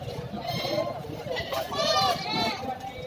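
Several goats bleat in bursts while being loaded onto a vehicle at a livestock buying spot in San Tomas, Batangas, their calls rising over people chatting close by.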